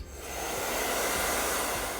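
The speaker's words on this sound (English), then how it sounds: "it's gonna send out crazy hot burning air" A heat gun blows hot air for art journaling, a steady broadband rushing roar that builds quickly at the start and holds loud and constant to the end, with no talking.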